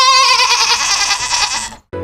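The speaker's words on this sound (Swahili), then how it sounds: "Hii ni sauti ya mbuzi." A goat bleats loudly at close range in one long wavering cry, followed by a short gap and the start of another sound.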